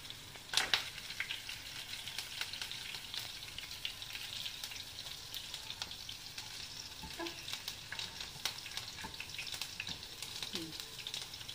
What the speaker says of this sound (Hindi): और जीरा जैसे ही थोड़ा तड़कने लगेगा इसमें मैं हरी मिर्च डालूंगी।